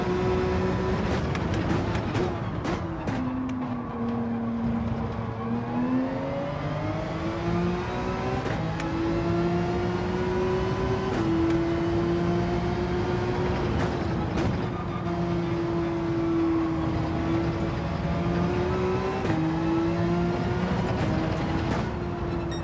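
A McLaren race car engine in Gran Turismo 7 drones loudly and steadily throughout, its pitch rising and falling through gear changes as it accelerates, with no one talking.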